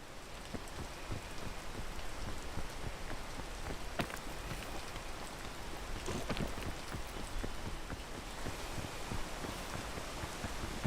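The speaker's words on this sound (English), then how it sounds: "There's a lot of rain today." Rain falls steadily in the video game Peak, a faint, continuous hiss of drops on surfaces with occasional sharper taps, and no talk.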